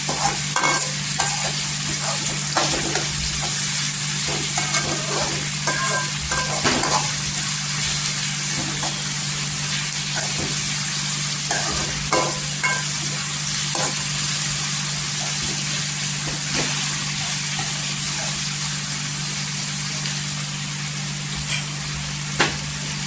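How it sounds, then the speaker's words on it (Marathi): One or two cut tomatoes sauté in oil for a red crab dish, a steady loud sizzle with repeated stirring clinks and scrapes, over a constant low mechanical hum. "इथे टोमॅटो टाकायचं। 1 ते 2 टोमॅटो आहेत कट केलेले आहे, ते टाकायचं। इथे तेलावर परतून घ्यायचं।"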